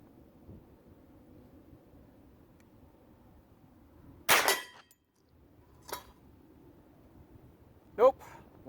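Hi-Point 10mm pistol carbine fired outdoors at a target about 50 yards away: two sharp, loud shots separated by several seconds, the first with a short echoing tail, over light wind noise and a quieter third crack.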